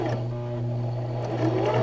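A sewing machine hums steadily as it stitches in reverse, its motor whir close and even, with a slight rise near the end.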